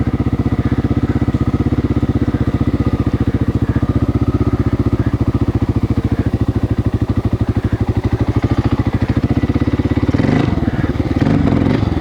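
A motorcycle engine runs steadily after a carburetor jetting test on a bike built from worn parts, a loud close rapid thumping idle that roughens and sputters near the end.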